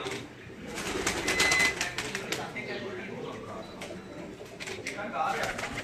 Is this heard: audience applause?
no